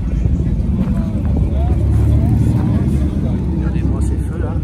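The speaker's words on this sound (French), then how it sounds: "Cette voiture est assez folle" A car driving past on Place Vauban, its engine and tyre noise swelling and fading at moderate distance while someone talks over it in French.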